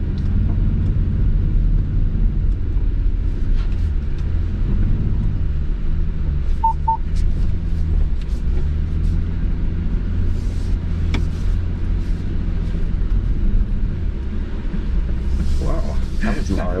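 Cabin of a 2025 Ford Expedition with the high-output 3.5-liter twin-turbo V6, a steady low engine and road rumble while driving, with a few faint electronic chimes.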